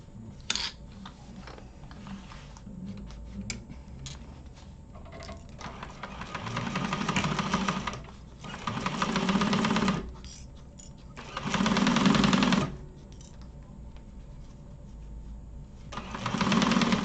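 A sewing machine stitching across a seam in a sewing class, running in several bursts of steady whirring with short pauses between them, over a low room hum.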